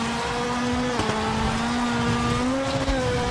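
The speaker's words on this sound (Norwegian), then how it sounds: "Veldig rå lyd på bilen." A rally car in a World Rally Championship video game holds a steady, loud engine drone with a sustained tone that rises slightly, continuous throughout without any talking.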